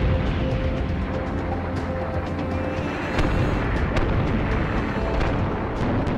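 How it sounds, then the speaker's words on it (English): Massed British 25-pounder field guns fire a huge wartime artillery barrage in the North African desert: a dense, continuous roar of overlapping booms, loud and unbroken throughout. "Under cover of the largest artillery barrage of the war so far, as the massed 25-pounders made their mark"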